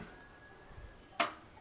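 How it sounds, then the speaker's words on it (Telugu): A gas stove burner pops once as it is lit, one short sharp burst after near silence with a faint steady hiss before it. "ఇక్కడ ఇది గ్యాస్ ఇలా సౌండ్ వస్తుందండి."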